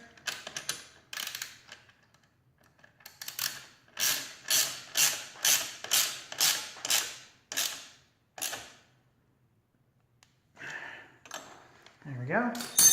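Someone snugs a 12 millimeter bolt on a Honda Grom exhaust with a ratchet, producing a close series of evenly paced ratcheting clicks, with brief handling noises and a voice near the end.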